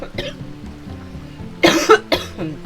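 Repeated human coughing from a person with a lingering cold, a few short harsh coughs close to the mic over a soft background of quiet game music.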